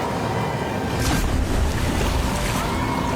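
Rushing flood water roars in a steady, loud, broadband wash, like surging waves with wind-like noise and a few stronger surges, with no voices.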